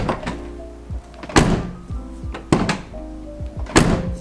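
Three solid thunks of a VW Corrado door being shut, spaced about a second apart with faint clicks and handling noises between them, close to the microphone.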